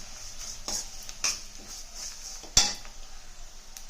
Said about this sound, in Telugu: ఉప్పు కారము వేసి చక్కగా కొంచెం కలుపుదాము